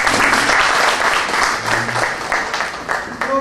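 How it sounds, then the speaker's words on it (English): Loud, dense applause from an audience at an awards ceremony, welcoming Dr. Shikha Darbari: a continuous roar of many hands clapping at once, with faint voices underneath. "a huge round of applause for"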